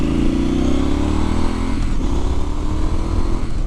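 A 2021 Triumph Street Scrambler motorcycle engine pulls hard and rises in pitch, eases briefly around a gear change, then climbs again, loud and close with a throaty continuous drone.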